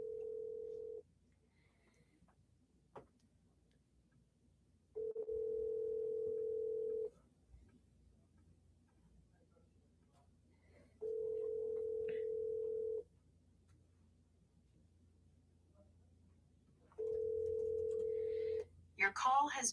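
Outgoing phone call ringback tone pulses in four steady two-second rings separated by quiet gaps, with faint background noise and a brief crackle at the end.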